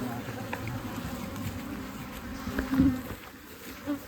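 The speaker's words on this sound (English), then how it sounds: "some of the bees are flying out" Honey bees leave a hive frame with a close, continuous buzzing drone that holds steady, swelling briefly louder near the end as a few bees pass nearby.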